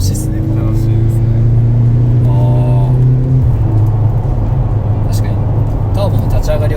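A Mercedes-AMG C43 station wagon's turbocharged engine pulls hard under acceleration, a steady low drone that swells and shifts pitch as the car gathers speed, heard from inside the cabin with voices talking over it.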